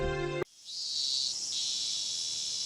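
A dense chorus of cicadas in the Higurashi visual novel, a loud, sustained high-pitched buzzing drone that swells in after a brief cut-off tone and holds steady without pause.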